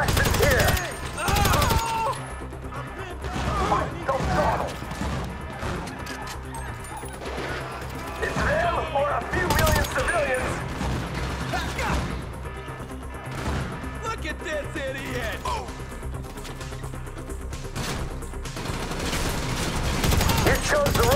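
Gunfire from Grand Theft Auto V during a military lockdown shootout, dense bursts and crashes running throughout under loud game music and frequent shouted talk.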